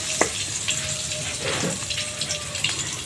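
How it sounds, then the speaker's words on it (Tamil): Garlic frying in melted butter for paneer butter masala, giving a continuous soft sizzle with a few brief clinks and scrapes of a utensil against the pan. "பட்டரை நல்லா வந்து கரைஞ்ச பிறகு உருவி வந்துட்டோம்னா பூண்டை போட்டு வதக்குறோம்"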